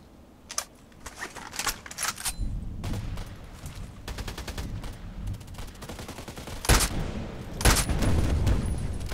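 Rapid bursts of blind gunfire from the online shooter Contract Wars, clustered cracks and rattling volleys at varying distances, some sharp and close, others quicker and lighter, with no talking.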